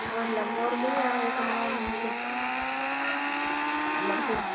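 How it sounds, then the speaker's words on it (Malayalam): A Lamborghini engine drones steadily at a constant pitch, sounding loud and close as the car cruises, with voices talking over it. "ലംബോർഗിനിയാണ്"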